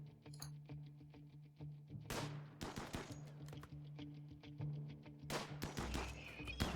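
Colonists in the desert video game RimWorld open fire, sharp gunshot cracks coming in scattered bursts and quick volleys over a low steady hum, fairly quiet overall with no voices.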